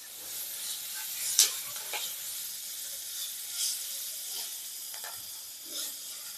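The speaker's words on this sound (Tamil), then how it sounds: "இதையும் இது கூட போட்டு நல்லா ஃப்ரை பண்ணிடலாம்" Onions and curry leaves fry in a pan for a ragi kichadi breakfast, giving a soft, steady sizzle with light stirring scrapes and one sharp clack partway through.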